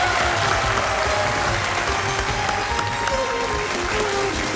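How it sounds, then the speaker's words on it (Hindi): A studio audience on a Hindi television stage show applauds for Amitabh Bachchan, a dense, steady roar of clapping with faint tones and background sounds mixed beneath it. "एक बार बच्चन साहब के लिए सर तालियां हो रही है"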